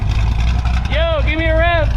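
A boosted, cammed C6 Corvette Z06 V8 idles loudly close by, a deep lumpy rumble throughout, with someone speaking over it in the second half.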